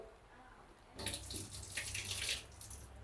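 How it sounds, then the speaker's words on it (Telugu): A stubborn tap, struck to get it working, is quiet for about a second and then suddenly gushes, water running steadily and fairly loudly into a sink. "ఈ ట్యాప్ కూడా దెబ్బలు పట్టాలన్నమాట దెబ్బలు పడితే కానీ మాట వినట్లేదు"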